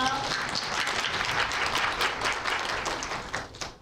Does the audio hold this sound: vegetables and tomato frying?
no